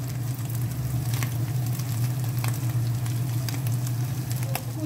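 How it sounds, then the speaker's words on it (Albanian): Minced meat fries with onion and garlic in a pan, a steady close sizzle with scattered crackles and pops throughout, no voices. "Skuq edhe qepa bashkë me hurdhrën dhe mishin"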